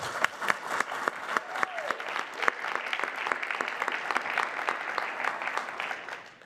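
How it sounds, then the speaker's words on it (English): Applause from a forum audience, many hands clapping steadily at moderate distance for several seconds before tapering off. "Can we please give a round of applause?"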